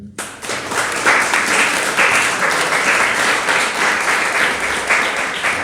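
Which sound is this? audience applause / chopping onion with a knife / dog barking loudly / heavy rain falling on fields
audience applause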